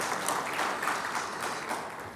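A big round of applause from an audience at a members' event, a soft, steady wash of many hands clapping, fairly distant and without talk.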